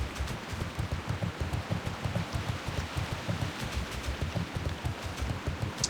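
Rain falling in the World of Warcraft video game, a steady close patter with a pulsing low rumble throughout, no voices.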